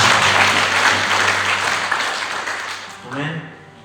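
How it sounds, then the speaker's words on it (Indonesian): A church congregation at a GBI service in Langkat claps loudly and densely, a continuous wash of applause that fades toward the end as a voice begins speaking. "Berikan tepuk tangan untuk Tuhan"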